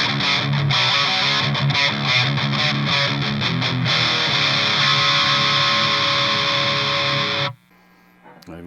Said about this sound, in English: The Peppers Pedals Satanist Distortion, one of the best metal distortion pedals on the planet.